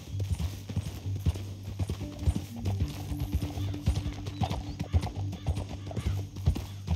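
A horse in Red Dead Redemption 2 steps and shuffles on a rocky canyon edge, with steady clip-clop hoof strikes over a low droning game music bed, continuous and fairly close.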